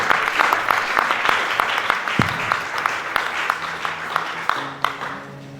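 A church congregation applauds with steady, sustained clapping that is loud and close, with sharper individual claps standing out. The clapping thins toward the end while a few voices talk underneath.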